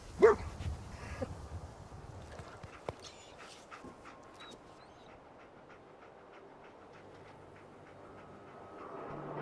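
Dogmeat, the dog in the video game Fallout 4, gives a short burst of loud barks at the start, then ambient game sound continues underneath.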